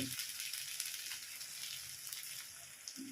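Chicken masala sizzling in a pan as cumin powder goes in, a soft continuous frying hiss with faint crackle throughout, quiet and steady with no talking.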